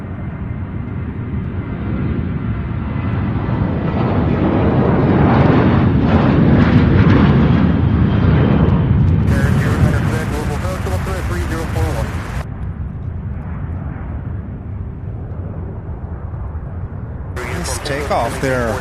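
An airliner taking off at Louisville International Airport builds into a loud, rumbling jet roar that peaks and slowly fades into the distance, with bursts of radio chatter cutting in over it.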